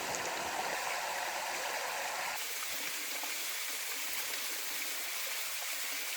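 Steady rushing water of a small waterfall on Gökçeada island, Turkey, a continuous close roar with a slight shift in tone partway through.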